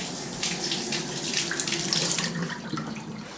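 Running tap water splashes into a kitchen sink as something is rinsed off, a close steady gush lasting a few seconds with no talking.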